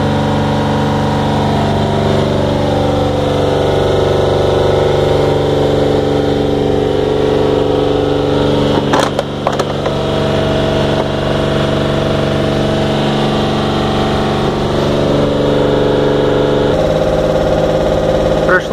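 Toyota Mark II (GX61) with 1GE engine idling steadily after a cold start with a low, continuous rumble, close by, a brief rattle midway and no talking.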